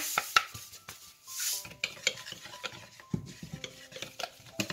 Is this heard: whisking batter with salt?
yes